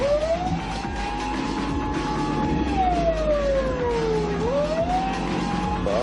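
A Japanese police car's siren sweeps up and down in long, smooth wails as the car passes nearby, loud and steady over a bed of engine and road noise.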